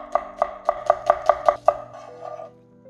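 A knife thinly slices firm sweet potato on a cutting board, seven sharp, evenly spaced strokes up close, then the strokes stop and a low hum remains.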